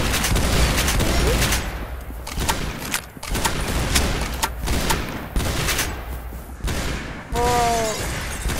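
Gunfire from a shotgun and other weapons in the competitive shooter game Arsenal: a rapid series of loud, sharp shots with a few pauses, and brief talk near the end.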